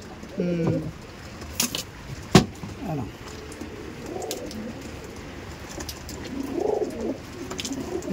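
Golden-eyed Madras pigeons brought from Delhi coo softly in a loft while being handled, with a few low cooing phrases and a brief knock, some wing and body rustle, and people talking nearby.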